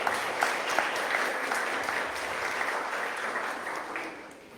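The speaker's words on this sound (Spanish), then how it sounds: "Dale una ofrenda de palmas a Él" A church congregation claps together in sustained, dense applause that holds steady and then gradually tapers off toward the end.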